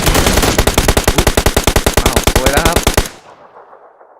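Gunfire in the video game PUBG Lite: a loud, rapid automatic burst of about thirty evenly spaced shots lasting three seconds, then a fading echo.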